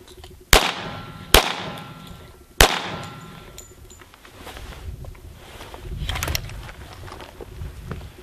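Pistol fired in a Mozambique drill with live duty ammunition: three sharp, loud shots, two in quick succession and a third after a short pause, followed by quieter rustling and handling noise.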